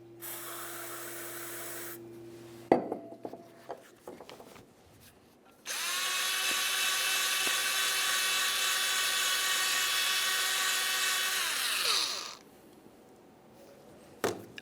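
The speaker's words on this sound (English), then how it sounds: "We'll use some parts cleaner and a bore brush." Parts cleaner sprays with a short hiss into the caliper slider pin ports of a 1994-1997 Honda Accord, then, after a few clicks, a bore brush spins inside the port with a steady, close, whining whir for several seconds.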